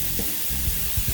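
Garlic sizzling in a hot cast iron pan alongside onions, a steady soft frying hiss with a few low stirring bumps, no talk.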